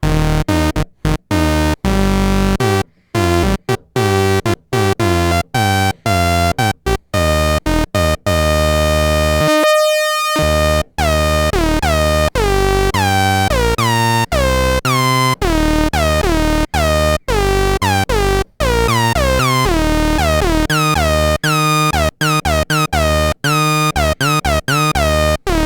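Yamaha CS-15 analog synthesizer playing loud, continuous tones with glide portamento, pitches sweeping and sliding smoothly between notes in a busy run of phrases with brief gaps.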